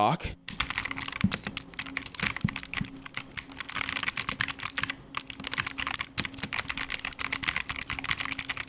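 Rapid mechanical keyboard typing with deep, muted thocking keystrokes in quick irregular bursts, close up, with a few brief pauses.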